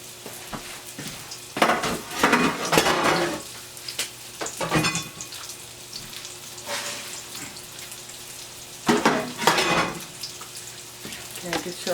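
Shrimp sizzle in a pan for shrimp parmesan, a steady frying hiss broken by louder clattering bursts as the pan and utensils are handled up close.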